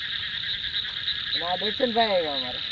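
Frogs and crickets call after rain near a filled pond: a steady, high insect trill runs throughout, and close, loud frog croaks join in a rapid burst during the second half.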